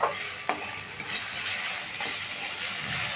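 Potatoes stirred and fried in a pan over a high flame for a Bengali peyaj aalu posto, a steady close sizzle with a few sharp scraping stir strokes.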